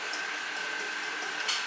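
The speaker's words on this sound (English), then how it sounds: "it'll take longer on this because it's not a food processor. It's a food mixer." An electric food mixer beating cold butter for shortbread runs as a steady, close mechanical whir with a constant motor whine and faint rattling, unbroken throughout.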